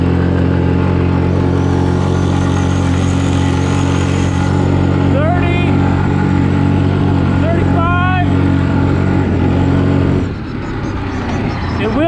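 A 2020 Yamaha Kodiak 450 EPS ATV in two-wheel drive high, run at full throttle on a flat road, its engine a loud, steady, close droning roar with a whining tone that briefly drops near the end.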